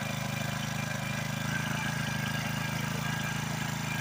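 A small SYX Moto MT-2 40cc kids dirt bike engine idles at a steady, even putter, running close and fairly quiet without throttle changes.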